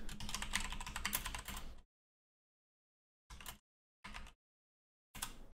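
Computer keyboard typing in quick clattering bursts: a dense run of keystrokes for nearly two seconds, then three short separate flurries after pauses of silence, close and fairly loud with no voices.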